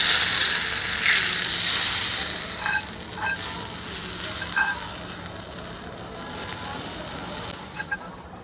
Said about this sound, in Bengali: এখন আমার বাগারটাকে এর উপরে ঢেলে দিতে হবে।